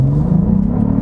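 A 2023 Cadillac CT4-V Blackwing accelerates hard, its engine producing a loud, close, deep rumbling drone with a steadily rising pitch.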